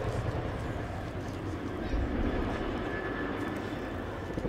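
A Royal Air Force Chinook HC.6A twin-rotor helicopter at an air show flying display roars steadily with a low, pulsing rotor throb, loud and continuous in the open air.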